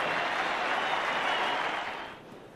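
A crowd of about 18,000 at a cricket Test match between Australia and Pakistan cheers and applauds a standing ovation for batsman Greg Chappell in his final innings, a dense, sustained roar that eases slightly at the end.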